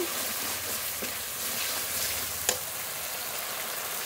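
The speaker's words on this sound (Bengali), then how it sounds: "এবার একটু জল দিয়ে খুব ভালো করে মশলাটা কষিয়ে নেব।" Spice paste frying with a splash of water in a hot pan gives a dense, steady sizzle close up, with a couple of faint stirring knocks and one brief sharper clink.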